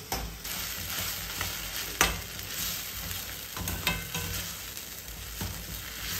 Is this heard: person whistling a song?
no